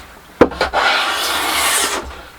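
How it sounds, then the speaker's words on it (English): A small hand plane takes a long shaving off wood on a small-shed cyclekart bonnet, a single close, loud rasping hiss lasting over a second, preceded by a couple of sharp knocks as the blade is set. "the little hand plane I've got is absolutely ideal for taking this stuff down"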